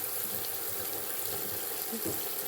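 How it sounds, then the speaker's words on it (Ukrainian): A bucket filling with hot water from a tap, a steady loud rushing stream of water running continuously and close, no speech. "Набирається ведро гарячою водою."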